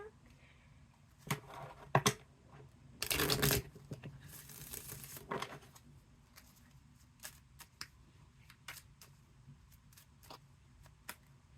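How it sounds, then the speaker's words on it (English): Tarot cards being shuffled by hand in a quiet room, with slippery cards giving a few riffling, crinkling bursts near the start and then scattered soft ticks and flicks. The sounds are close and fairly quiet, with no talking. "Shuffle real quick."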